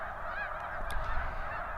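Snow geese honk in a continuous flock chorus, with overlapping calls and a couple of sharper, louder honks standing out near the middle, set against steady low background noise.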